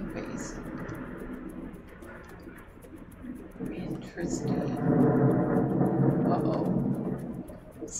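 Thunderstorm in Minecraft, a low rumbling roll of thunder swelling partway through and holding loud, with occasional faint chirps above and a voice talking over it.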